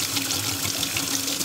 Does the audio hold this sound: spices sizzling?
no